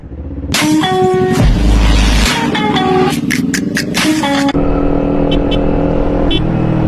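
A motorcycle engine on a road, loud and close. It revs and surges for the first few seconds, then drops to a steadier, lower running drone.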